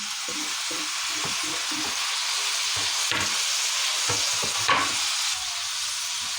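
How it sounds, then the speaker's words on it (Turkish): Peppers and tomatoes sautéing in a pan for okra stew, a steady broad sizzle with repeated scraping stirs of a spoon through the pan, close and continuous with no talk. "Biraz domatesle beraber de kavuruyorum böyle."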